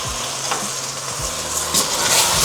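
Chicken tinola frying with pepper and green chili while a utensil stirs it, giving a loud close sizzle with scraping strokes across the pot and no talking.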